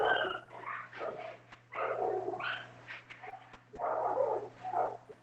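Several dogs bark and growl outdoors in repeated overlapping bursts at moderate distance, over a steady low hum, with no talk.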